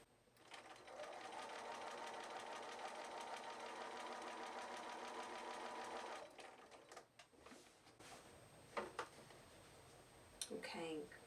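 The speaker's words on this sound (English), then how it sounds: "I'm sewing like a 1/16 of an inch from the edge" A sewing machine topstitches close to the edge of a quilt's scalloped binding, running in a steady fast whir for about five seconds, then stopping into a few short bursts, clicks and handling noises, quiet and near.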